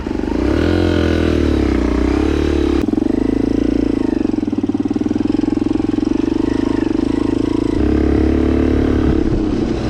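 An enduro motorcycle rides a rough road near Badrinath Temple in Kavresthali, Nepal, its engine droning loud and close throughout, with a short jolt and a change in pitch near the three-second mark.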